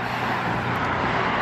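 Steady traffic roar from a busy major street, a continuous broadband wash of passing cars with no breaks, heard alone without talk.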